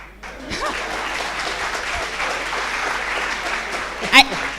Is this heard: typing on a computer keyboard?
no